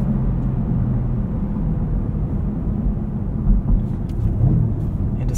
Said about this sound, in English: So we're downshifting here into fourth,